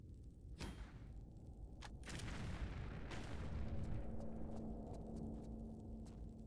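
Grenade blasts in the video game Tomb Raider: The Last Revelation, heard as several sharp booming bursts and thuds with a rumbling tail, loud and close, no talking.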